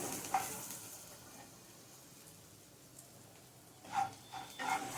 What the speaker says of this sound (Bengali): নেড়ে নিয়ে আমি এর মধ্যে ভাতটা দিয়ে দেবো